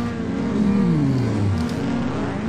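A car engine in the FlatOut racing game revs up and accelerates, a steady loud whine sweeping downward in pitch as gears change, with no talk.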